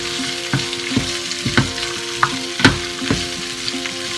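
Poblano peppers and onions roast over high heat in a pan, giving a steady close sizzle with scattered pops and crackles and no voices.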